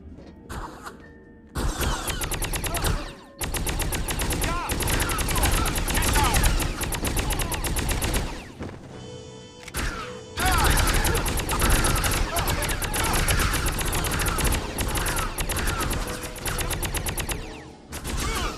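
Sustained bursts of heavy automatic gunfire from the 2003 PC shooter Contract J.A.C.K., loud and dense rapid shots in long volleys with brief pauses between them.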